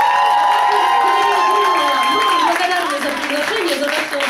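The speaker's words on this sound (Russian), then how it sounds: "Друзья, еще раз наши бурные овации!" An audience at a home concert in Kyiv applauds and cheers in a dense, sustained wash of clapping while someone speaks loudly over it.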